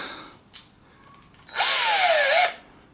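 A power drill boring a half-inch starter hole for an IKEA Varde shelf: a short tap, then a loud, close whine that rises in pitch, drones for about a second and cuts off abruptly.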